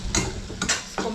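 A spoon stirs a chana dal and onion mixture in a pan, giving a few soft scraping strokes over a low sizzle, close and fairly loud.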